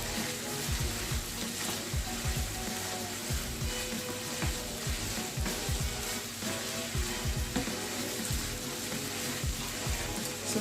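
Meat and mushrooms frying and being stirred in a pan for spaghetti bolognese, a steady loud sizzle with scraping and clattering stir strokes running throughout, no talk.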